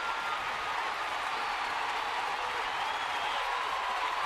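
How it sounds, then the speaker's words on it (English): A sellout baseball crowd at AT&T Park stands and roars, a dense, steady wash of cheering and applause that holds at an even level throughout with no break. "The sellout crowd at AT&T Park now standing with a 1-2 count to Jed Lowry"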